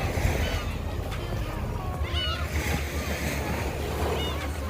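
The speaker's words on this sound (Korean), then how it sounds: "파도 소리도 듣고" A steady wash of waves rolls in on the shore at Daecheon Beach, Boryeong, South Korea, with a few gull cries rising faintly above the surf.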